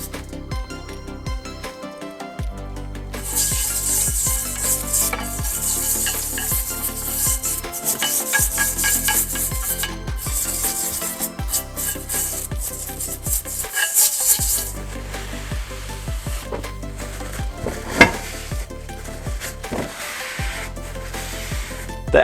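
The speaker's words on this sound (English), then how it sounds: "For this step, I'm just using a nylon bristle brush." Nylon bristle brush scrubbing paint and stripper residue off Walker-Turner 10-inch table saw trunnion parts, busy scratchy rubbing strokes with clinks of metal, close and continuous, with brief pauses between bursts.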